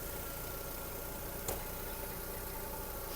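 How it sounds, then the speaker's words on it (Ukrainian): A Volkswagen Golf 5 1.6 MPI petrol engine idles in a steady, broadband hum, fairly quiet, with a single short click partway through. "Двигун працює чітко, кришечку притягує"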